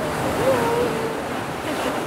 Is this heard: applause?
no